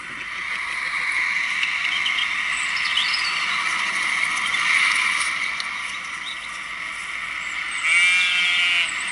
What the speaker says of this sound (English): It's my dog saying hi to a sheep.